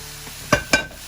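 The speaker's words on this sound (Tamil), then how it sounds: "இதோடு சேர்த்து நாங்கள் பொரிச்சு வச்ச ப்ரான்ஸை போட போகிறோம் இதில்." Fried prawns tipped into a hot pan with Maggi sauce for a spicy prawn fry, giving two sharp sizzling bursts over a low steady background hiss, close and fairly loud.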